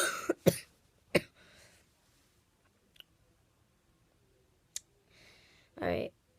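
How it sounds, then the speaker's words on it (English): A person coughs several times at close range: a few sharp coughs early on, a rougher throat-clearing cough, then a longer cough near the end, with quiet pauses in between. "Cough my lungs out."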